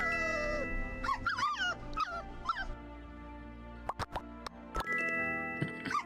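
A video game dog named Scraps gives short yips, whimpers and barks in quick bursts over a steady game soundtrack.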